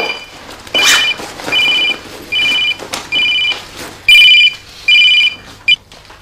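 A landline telephone rings in repeated electronic bursts, six or seven evenly spaced trills standing out clearly over a quiet indoor room, with no voices.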